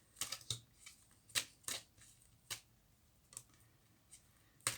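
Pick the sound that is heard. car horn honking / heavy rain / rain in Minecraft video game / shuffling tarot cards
shuffling tarot cards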